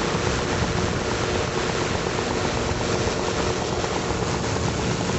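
A microlight aircraft engine in flight, a loud, steady, unbroken roar mixed with wind rush, heard close from the open cockpit with no talk.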